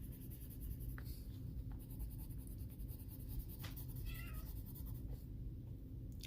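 A vocal house cat gives a brief, faint meow, heard above the steady scratch of colored pencil on paper.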